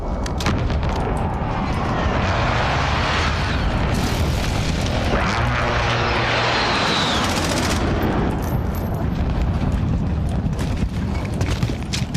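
An airstrike in a hardcore Call of Duty Modern Warfare match: aircraft sweep overhead amid loud, continuous booms, explosions and rattling gunfire that fill the whole stretch.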